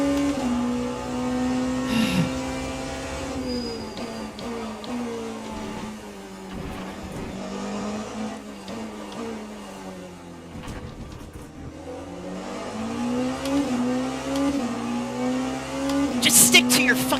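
Race cars in Le Mans Ultimate, including a McLaren, roar past one after another, engines revving up and down with pitch sweeps as they close in and pull away, loud and continuous with a brief tire squeal near the end.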